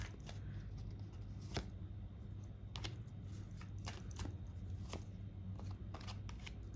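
Tarot cards being shuffled by hand, a run of quiet riffling flicks and soft slaps at an uneven pace over a steady low background hum.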